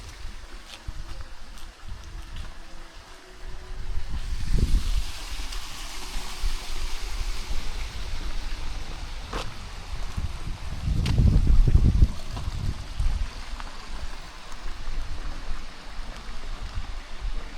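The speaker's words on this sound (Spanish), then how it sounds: "Ah, hay una cascada." The Fudo waterfall at Ikuno Ginzan gives a steady rushing wash of falling water, moderately distant, with occasional louder low thumps and handling bumps, no speech.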